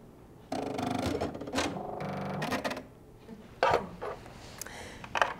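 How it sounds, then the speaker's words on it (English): Home sewing machine fitted with a walking foot, running in several short bursts with rapid mechanical stitching chatter, stopping and starting between runs in a quiet room. "I'll turn on my sewing machine"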